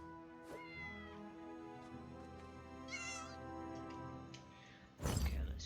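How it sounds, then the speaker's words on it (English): Cats meow inside a house in The Elder Scrolls Online, several drawn-out, tonal meows repeating over a quiet game backdrop, ending in a sudden loud crash-like burst. "I'm in the house with these cats."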